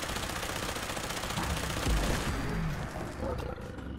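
Rapid automatic fire from a Tesla Heavy Autocannon aimed at a Deathclaw in Fallout 4, a dense unbroken stream of shots under a rumbling creature roar, loud throughout with a heavy low thump midway.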